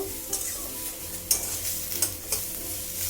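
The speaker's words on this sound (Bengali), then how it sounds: "আর দেব আদা বাটা, দিয়ে এটাকে আমি ভালো করে মিশিয়ে নেব।" Fish head shukto with ginger paste, salt, potato and bitter gourd is stirred in a kadai, a steady close sizzle broken by several sharp scrapes of the spoon against the pan.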